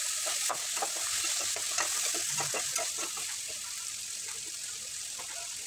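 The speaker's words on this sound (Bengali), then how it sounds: "তা আমি এইভাবে অনেকক্ষণ কষিয়ে নিয়েছি" Winter vegetables sautéed in a pan for a lentil-and-vegetable dish, with a steady sizzle and repeated scraping and stirring strokes throughout, close and continuous with no talking.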